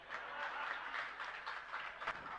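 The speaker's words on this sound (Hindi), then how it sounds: "क्योंकि आपकी ताली बज रही है" Faint, distant applause from an audience at a Jain sermon, a steady patter of many hands clapping through the whole moment.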